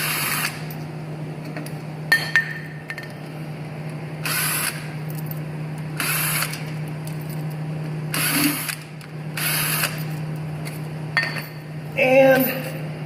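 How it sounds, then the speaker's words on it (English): A screw gun backs screws out of wooden rack rails in short, bright bursts of whirring, about eight separate pulses over a constant low electrical hum, with a few clinks of metal parts between them. "we're going to remove the wood rails with your favorite screw gun"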